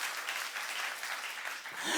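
A church congregation at a youth service applauds steadily, a dense wash of many hands clapping together at moderate distance, swelling slightly toward the end.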